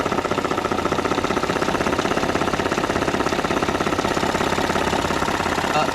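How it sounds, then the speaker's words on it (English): Fast, steady mechanical ticking from the high pressure fuel pump on a 2013 Ford F150 with the 3.5L EcoBoost direct-injection engine, a cam-driven pump clicking loudly and evenly over the running engine's drone. "Normal clicking, that's normal. That happens on every GDI engine because it's a high pressure pump that runs off the cam."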